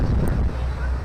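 Strong wind roars and buffets across the top deck of a paddle boat on Lake Mead near Hoover Dam, a low rumbling gust close to the microphone with a brief voice over it.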